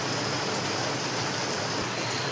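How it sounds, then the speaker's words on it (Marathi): Heavy monsoon rain pouring steadily outside a home kitchen, a dense unbroken hiss with no pauses, close and moderately loud, with no talking. "पाऊस तर खूपच इथं चालू आहे आमच्या इथं. तर पावसाचा आवाज येत असेल."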